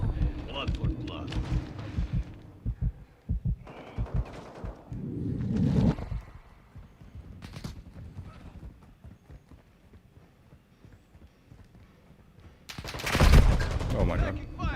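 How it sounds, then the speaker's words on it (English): Gunfire in the shooter game Call of Duty Modern Warfare II comes as scattered bursts and booms among game voices, footsteps and effects, with a loud blast near the end. "Taking fire."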